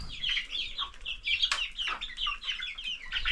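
Chickens at a small home poultry setup clucking close by in a continuous, busy chatter, with a few sharper squawks rising out of the steady murmur.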